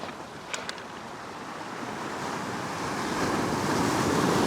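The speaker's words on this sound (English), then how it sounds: "I'll wait for this next wave so I can wash my hands" Ocean surf breaking on a fishing beach, a steady wash of wave noise that swells louder toward the end as a wave rolls in close, with some wind buffeting the microphone.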